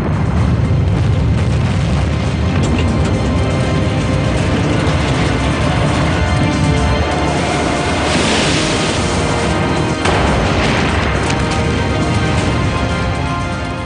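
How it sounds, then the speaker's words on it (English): A torpedo detonation tears through the bow of the Russian submarine Kursk, heard as a sustained, loud roaring rumble with deep booming surges throughout, no voices present. "another detonation rips through the front of Kursk"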